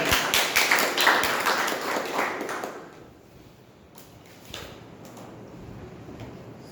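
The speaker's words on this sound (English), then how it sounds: "A round of applause for the guests." Applause at a meeting welcoming the guests: a dense crowd of overlapping claps for about two and a half seconds, then fading to sparse, quieter taps and room noise.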